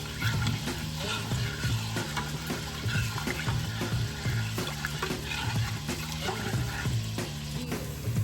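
Bacon frying in a pot for clam chowder, a steady close crackling sizzle with stirring clatter throughout and no talking.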